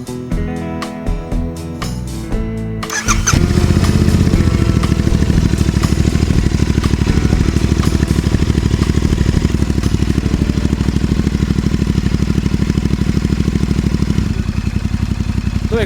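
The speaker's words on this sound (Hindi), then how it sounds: "तो एग्जॉस्ट इंस्टॉल करने के बाद हमें बाइक 10 मिनट आइडल पे रखनी है" A Royal Enfield Interceptor 650 motorcycle with a newly fitted Powerage aftermarket exhaust idles close by, a steady loud low rumble after a brief burst of music, holding even throughout.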